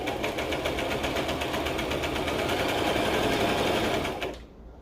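A sewing machine stitches parts of a dress in a steady, rapid mechanical chatter, close and loud, running continuously before stopping abruptly near the end.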